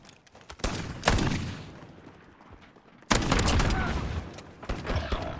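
Shotgun fire in the video game Warzone: two loud, close blasts, each followed by a long, roaring tail, the first followed by a quieter lull before the second hits hard and rumbles on.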